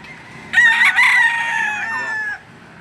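A rooster crows once, loud and close, a single drawn-out cock-a-doodle-doo lasting about two seconds at a poultry market in Lipa City, Batangas, with faint background murmur before and after.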